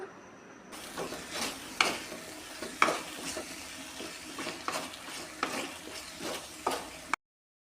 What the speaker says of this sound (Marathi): ते अजून एकदा आपण चमचेच्या सहाय्याने फिरवून घेऊया